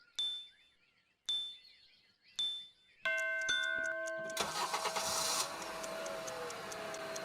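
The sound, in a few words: car engine starting, guessing game answer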